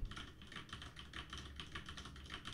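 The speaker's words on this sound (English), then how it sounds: "When I press the WASD keys" Rapid, steady clicking from WASD keys being pressed on a computer keyboard during a keyboard test, heard close and alone with no talking, faint overall but clearly articulated, key after key.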